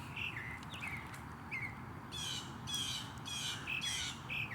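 A bird squawks repeatedly from a tree in the Sugarland and Stafford area in the morning, harsh calls in a loose rhythm over a steady outdoor background, with other chirps mixed in.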